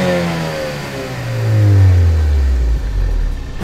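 A Ford Focus ST MK3 engine revs up loud and close, its pitch climbing and then falling back with a deep, sustained exhaust roar.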